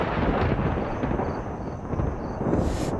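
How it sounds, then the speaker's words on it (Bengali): Thunder rumbles as a continuous, loud, low roll that swells and recedes, with no voices. "তার আগেই আকাশটা গুরুম করে ডেকে উঠল"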